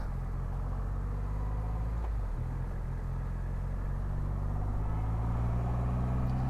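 A Triumph Rocket 3 R motorcycle, a 300 kg triple-cylinder machine, being ridden, its engine giving a steady, deep, continuous rumble with a low drone throughout and no speech.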